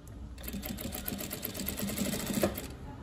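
Overlock serger running steadily as it stitches along the edge of fabric while sewing traditional panties, a close, continuous mechanical whir with rapid stitching rhythm and brief variations in speed.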